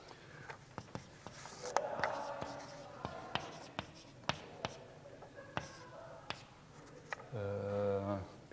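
A marker or chalk taps and scratches across a board in a lecture hall, sharp strokes and clicks in an irregular rhythm, with a brief hum of speech near the end.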